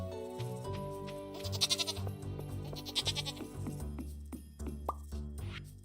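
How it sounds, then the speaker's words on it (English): Goat bleats from the Stardew Valley farm game rise over layered game music and plopping effects, several short wavering cries at moderate volume with no talking. "every time I hear that goat, it throws me off a little bit."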